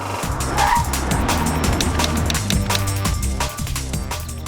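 A Mercedes-Benz A45 AMG brakes hard, its tires squealing loudly under a close, throaty engine that rises and falls over several seconds.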